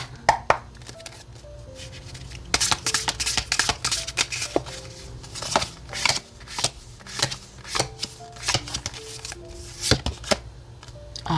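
Tarot cards shuffled by hand, a steady run of crisp riffling and slapping bursts over a low background hum, close and fairly loud with no talking.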